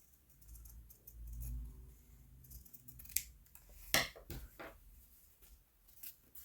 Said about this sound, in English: Cut off the edges again.